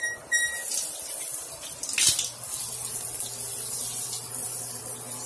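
Water runs steadily into a bathtub, rinsing soap down the slow drain: a continuous, close, even hiss of flowing water with a small splash near the start.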